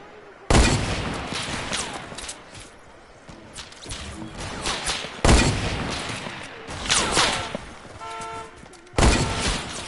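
Sniper fire in a multiplayer shooter game: four sharp, loud shots spaced a few seconds apart, each with a ringing tail, over faint background game noise, with no talk.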